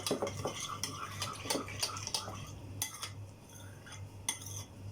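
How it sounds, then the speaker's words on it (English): Curd is stirred in a bowl with a spoon, giving quiet, repeated clinks and scrapes in an uneven rhythm over a low hum, with no talking. "First take the curd, stir it nicely."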